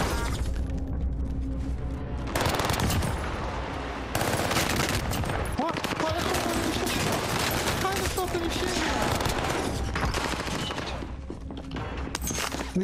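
Dense, loud automatic gunfire from the Armaguerra 43 and other weapons in the shooter game Rebirth Reinforced, with continuous rapid bursts and impacts, a player talking in the mix.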